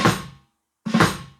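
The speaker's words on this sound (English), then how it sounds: "on the second line we've got a drag before the bass and hi-hat." Two close, sharp drum hits separated by a short silence, a drag on the snare followed by the bass drum and hi-hat in a grade 1-3 beat exercise, each strike decaying quickly.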